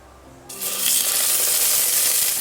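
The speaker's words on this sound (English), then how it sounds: "I'm gonna put it skin side down to fry it a little bit" A fish for sinigang drops skin side down into a hot pan, bursting into a loud, sustained sizzle that continues steadily after a quiet start.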